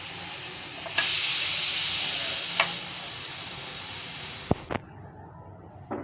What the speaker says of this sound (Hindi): अब हमने नीचे प्रेशर कुकर उतार दिया और इसकी स्टीम जो है वो